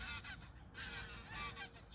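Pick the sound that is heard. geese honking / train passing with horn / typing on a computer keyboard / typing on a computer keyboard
geese honking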